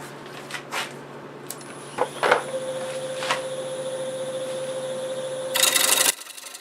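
Plum wood is shaped on a lathe while turning a cocktail glass, with scattered tool scrapes and cuts over a steady motor hum and a high whine, then a louder burst of cutting near the end.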